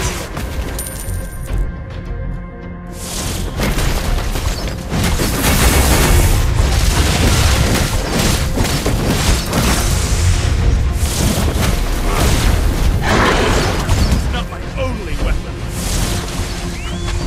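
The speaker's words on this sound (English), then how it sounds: "Destroyed a turret!" Booming explosions and crashing effects as a turret is destroyed in a video game, loud and dense throughout, with a game announcer voice over the action.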